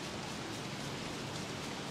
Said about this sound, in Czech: Ale pekelně nám prší